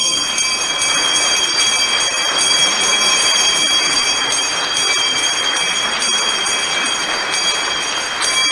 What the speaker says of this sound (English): ring the bell here on the Frankfurt Stock Exchange